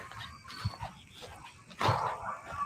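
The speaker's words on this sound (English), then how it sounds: "I hear the dogs riled up." Dogs outdoors on rural property, riled up, with a few faint, distant barks and yips scattered through a noisy background and a louder burst near the end.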